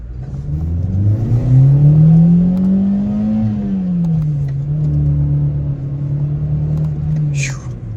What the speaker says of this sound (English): So let's do a first gear rip.